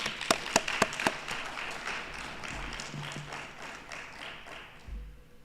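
Scattered clapping from a conference audience, a few sharp claps standing out near the start before a thin, sustained patter of hands carries on at moderate distance with no speech.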